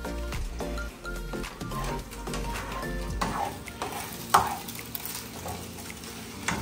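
Eggs cooking in a frying pan for breakfast and being stirred, with a light sizzle and clattering scrapes and taps of a utensil against the pan, close up and with no speech.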